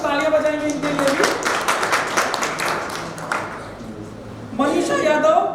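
Audience clapping at a 10th anniversary celebration of a community organisation, a steady burst of claps running under a speaking voice, with talk dominating at the start and end.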